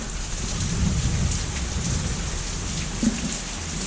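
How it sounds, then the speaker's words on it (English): Steady heavy rain hisses on surfaces while low thunder rumbles through a storm, with one sharper crack near the end. "It's storming. It's raining."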